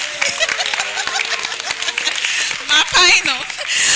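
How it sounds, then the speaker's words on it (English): Applause greeting the provost at an annual New Year school and conference, clapping under a speaking voice that fades in and out, with bursts of cheering and noise near the end. "applause"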